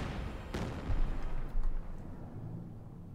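Tank gunfire in Company of Heroes 2, an M4 Sherman and other armor trading shots: a few heavy booming blasts with rumbling tails, set against a steady low battlefield rumble.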